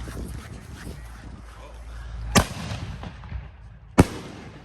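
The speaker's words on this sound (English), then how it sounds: "these guys are throwing fireworks, so might as well go pop some." Firework pops outdoors at night on the 4th of July, two sharp cracks a little over a second apart over a low steady rumble of background noise, with faint voices in the background.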